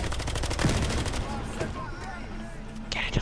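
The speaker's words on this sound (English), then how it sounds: "They're shooting at you." Gunfire in the video game Battlefield Hardline, dense rapid bursts of automatic shots crackling through the first seconds, then thinning out beneath players talking over voice chat.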